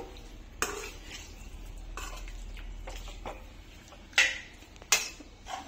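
Mutton liver fry being stirred in a pan, with a handful of sharp utensil scrapes and clinks against the pan over a quiet, low background.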